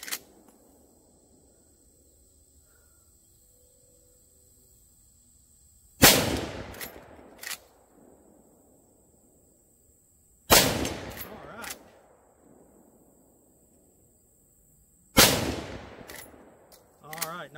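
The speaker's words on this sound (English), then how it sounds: "Even after just shooting the rounds that we've shot here in this review" Three loud, sharp rifle shots from a Rossi 95 Trapper lever-action rifle fired at steel targets within about 100 yards, each followed by a quick echo and a faint ring, spaced several seconds apart with quiet between.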